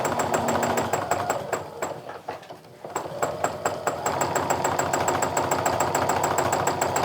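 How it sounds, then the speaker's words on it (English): A sewing machine stitches a holly meander quilting design in a fast, even, regular rhythm, pausing briefly midway before resuming the same steady pace. "You should hear that machine making a really steady stitch."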